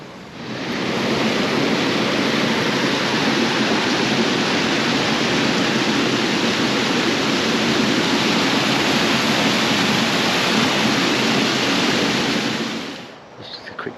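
Steady rushing flow of the River Great Ouse near Stony Stratford, a loud continuous broadband wash filling the whole stretch before fading near the end.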